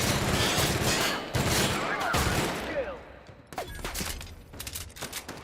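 Rapid bursts of video game gunfire from a gun being tried out, dense and loud at first, then thinning into scattered shots with some voice in the background.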